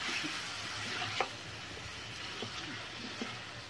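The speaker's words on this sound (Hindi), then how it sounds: "हमें हल्का सा ही इसे भूनना है तेल में, बहुत ज़्यादा नहीं भूनना है" Masala sizzles lightly in hot oil for a spicy Nagpur-style Saoji chicken curry, a quiet, steady frying hiss with a few faint stirring taps.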